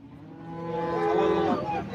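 At the busy Loni cattle market, a Holstein Friesian cow gives a single drawn-out, throaty moo up close, swelling through the middle and tailing off, with crowd hubbub underneath.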